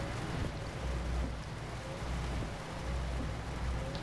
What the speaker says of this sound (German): wie wenn man echt jetzt in dem LKW sitzt und es die ganze Zeit regnet